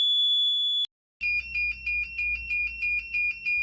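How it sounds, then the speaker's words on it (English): Home-made sidelights reminder buzzer in a Morris Minor, a shrill electronic tone that holds steady, breaks off briefly, then pulses in rapid regular beeps over a low engine rumble. "the buzzer will sound when the passenger door opens"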